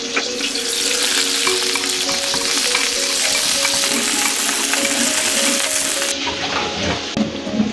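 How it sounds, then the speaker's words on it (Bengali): Pointed gourd slices frying in leftover fish oil on a tawa, a loud continuous sizzle with crackling spatter close by, steady throughout with no talking. "মাছ ভাজার তেলেই আর একটু তেল দিয়া আমি এই তাওয়াতেই পটলগুলো ভাজা নিই।"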